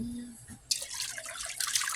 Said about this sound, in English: here's the next cup of hot water right here